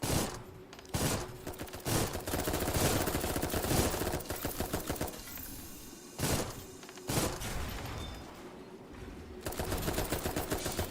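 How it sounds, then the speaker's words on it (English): Armored Core mech combat fills the air with sustained rapid automatic gunfire, long rattling bursts broken by short gaps and sharp impacts, loud and close with a faint steady tone beneath. "Somebody shooting at me? You shooting at me? Stop shooting at me."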